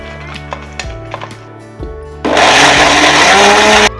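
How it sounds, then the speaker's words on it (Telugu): Roasted dal and dried red chillies rattle and clink in a mixer grinder jar, then a loud, close, continuous motor roar grinds them for about a second and a half before cutting out. "మనం మిక్సీ పట్టుకుందాము."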